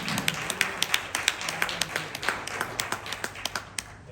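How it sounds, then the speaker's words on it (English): Scattered, individual handclaps from a business council audience, sharp and distinct with uneven spacing, thinning toward the end rather than building into a full ovation. "Can I have another round of applause,"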